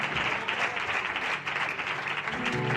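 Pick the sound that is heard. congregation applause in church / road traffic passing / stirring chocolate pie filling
congregation applause in church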